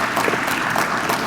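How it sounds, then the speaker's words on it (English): Audience applause fills a community housing facility hall, a dense, steady clapping from many hands at close range, continuous and unbroken throughout. "give them a round of applause"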